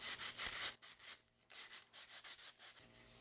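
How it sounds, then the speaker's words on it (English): Rhythmic hand sanding of a wooden dowel made on a router table, a steady back-and-forth rasping in quick strokes with a brief pause midway, close up and fairly quiet with no talking. "bit of hand sanding"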